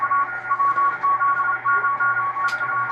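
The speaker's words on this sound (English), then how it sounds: "they would have that Morse code." Morse code beeping over a navy ship's radio: a steady, rhythmic sequence of short and long tones, clear and close against a low hum and faint static.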